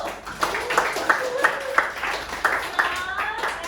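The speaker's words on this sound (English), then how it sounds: "Okay, give applause for all of you." Small class clapping together indoors, steady rhythmic claps about three per second that carry on for several seconds, loud and close, with voices talking over them.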